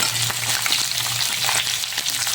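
Chopped onion sautéing in a pan for a Kerala-style chicken stew gives a loud, steady sizzle with a few soft scraping stirs, close up and with no talking.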